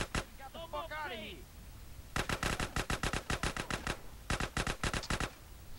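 Rapid automatic gunfire in GTA San Andreas rattles in two loud bursts of evenly spaced shots, preceded by a single shot and a brief spoken voice.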